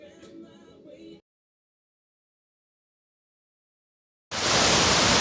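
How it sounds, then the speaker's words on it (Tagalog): Shiraito waterfall in Japan roars as a loud, steady, broadband rush of falling water, appearing abruptly after a short stretch of other sound and a long silent gap. "ang ganda ng falls"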